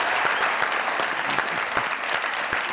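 Audience applause for an actress's entrance on a comedy talk show stage, steady dense clapping at close range throughout, with no voices over it.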